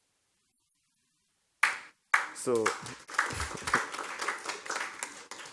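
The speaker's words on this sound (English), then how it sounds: "I hope the clap is for good reason" An audience at a tourism conference breaks into applause after a silent pause, a burst of clapping that rises, thins and continues with a voice briefly speaking.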